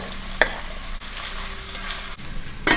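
Ginger and onion are stirred into simmering beef in a pot for a Chinese-restaurant-style beef soup, giving soft sizzling with several sharp scraping clicks of the utensil against the pot and no voices.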